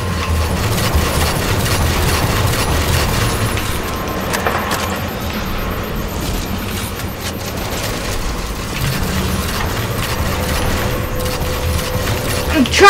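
Rapid sustained gunfire and explosions during a fight against a Banshee aircraft in the first-person shooter Halo, dense and continuous throughout, with a player's voice shouting over the shooting.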